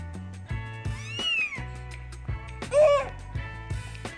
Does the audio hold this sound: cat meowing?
yes